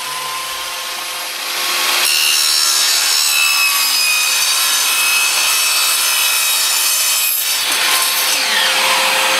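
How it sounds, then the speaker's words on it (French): A saw cutting through a laminate flooring plank, starting after a brief quiet moment and then running as a loud, steady, high-pitched rasp for several seconds, with no talking. "Donc là je coupe ma première lame."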